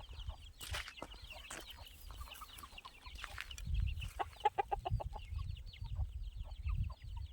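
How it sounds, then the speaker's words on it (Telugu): Free-range country chickens cluck in short, quick bursts, faint and a little distant, over quiet outdoor forest background noise. "ఇక్కడైతే నాటుకోళ్ళు ఉన్నాయి చూసారా నాటుకోళ్ళు పెంచుకుంటున్నారు"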